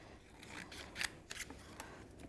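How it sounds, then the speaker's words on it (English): Scissors snip through die-cut lace fabric in a short run of crisp, close cuts, a few louder than others, with no talking. "So all I have to do now is to snip and snip at the other side."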